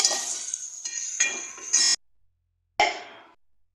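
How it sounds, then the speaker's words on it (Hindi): Onions and cumin in a pan on a tori sabzi stove, stirred with a utensil: bright scraping sizzle in several short strokes, a sudden silence, then one more sharp scrape, no talking. "अब हम इसे अच्छे से मिक्स कर लेंगे।"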